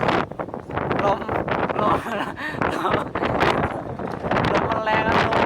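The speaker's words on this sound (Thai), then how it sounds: "ลมแรง มากเลย" Strong storm wind from Typhoon Megi gusts and buffets the microphone in a steady, loud roar with rustling, while someone talks over it throughout.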